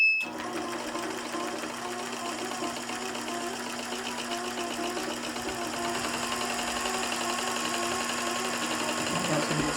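A sewing machine stitches in the ditch, a steady close mechanical hum with a fast rhythmic needle chatter running continuously throughout, the pace picking up slightly toward the end.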